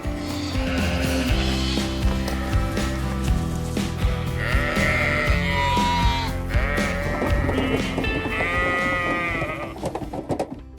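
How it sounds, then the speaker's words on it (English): Several sheep being transported for market in Australia bleat repeatedly, overlapping wavering calls against a constant low background rumble. "Shipping sheep by sea ensures they arrive in good condition and ready for market, says Ahmed"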